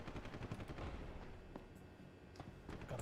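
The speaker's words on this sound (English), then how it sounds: "a little bit of a firefight going on down here" Gunfire from a firefight in Deus Ex: Human Revolution, with a SWAT team shooting it out, comes as a steady, moderately loud patter of scattered shots and bursts that persists through the whole stretch, with several sharper cracks standing out.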